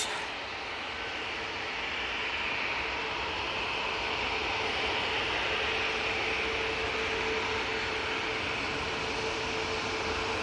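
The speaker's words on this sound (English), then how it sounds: "Ryanair 737 MAX now coming on right in front of us" A Ryanair Boeing 737 MAX taxis toward the runway at Manchester Airport, its engines giving a steady, broad jet whine and roar that holds loud and even throughout, with no voices.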